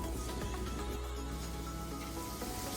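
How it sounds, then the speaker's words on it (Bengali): Bitter gourd (karela) stirred and fried over high heat in a pan, giving a steady, dense sizzle that runs unbroken at an even level with faint scraping of the stirring. "করলাটা আমি হাই হিটে সিদ্ধ হওয়ার আগ পর্যন্ত নাড়াচাড়া দেব"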